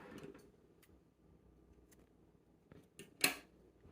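Scissors snip through the yarn tail of a finished front post double crochet hat: a few faint ticks and handling clicks in a quiet room, then one sharp, close cut near the end, with no talking.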